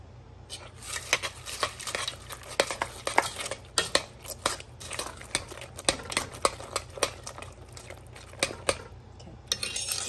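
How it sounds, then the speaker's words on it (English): A spoon scrapes and clinks against a dish while green bean casserole with sauteed onions is mixed, an irregular string of close, light metallic taps and scrapes without talk. "Mix it."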